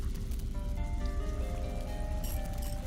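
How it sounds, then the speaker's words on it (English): Water flows through building pipes in the adventure video game The Little Acre, a close, continuous bubbling, sizzling trickle with faint tonal whines over steady low rumble. "With the obstruction removed, I could hear water flow through the pipes to another part of the building"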